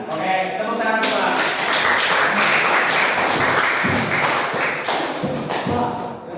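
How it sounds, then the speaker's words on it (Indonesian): A group of students claps in a classroom presentation, a dense, close burst of clapping lasting several seconds before it thins out, with a few louder taps and thumps mixed in. "Oke, tepuk tangan semua."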